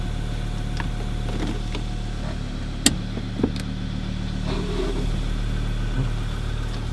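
A high-mileage repossessed car driven slowly inside a compound on a test drive, its engine a steady low hum from the cabin, with a couple of sharp clunks and clicks partway through and no talking.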